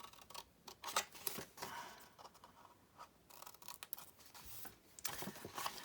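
Scissors snip through paper and cardstock while a small favour box is being cut out, giving short, close, crisp cuts in irregular bursts with pauses, no talking.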